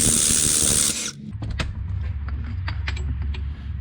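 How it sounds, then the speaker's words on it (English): A bearing puller being screwed down to draw a bearing off a Jeep JK axle: a loud broadband burst for about a second, then repeated sharp metallic creaks and ratcheting clicks over a low mechanical rumble, close up, with no talk. "So now I got the bearing puller all set up on the actual bearing"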